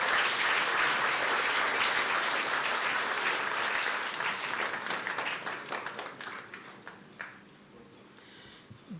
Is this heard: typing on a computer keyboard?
no